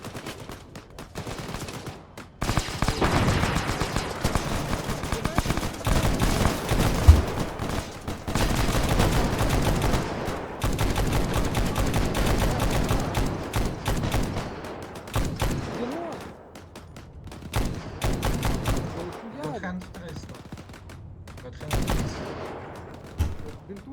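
Bursts of gunfire from the video game Arma 3, rapid volleys and single shots in clusters with pauses between, people talking intermittently underneath.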